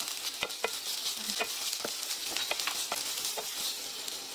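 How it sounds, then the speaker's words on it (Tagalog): Carrot and onion sauté in a little oil, a continuous sizzle with scattered crackles and pops and occasional stirring scrapes, close and fairly quiet with no voices. "Naglagay lamang ako ng konting mantika tapos ginisa ko na yung carrot."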